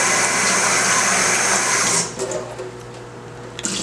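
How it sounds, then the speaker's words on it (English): Boiling water poured off salt fish into a kitchen sink, a loud steady rushing splash for two seconds that then cuts off into faint trickles and drips. "so I'm gonna pour this water"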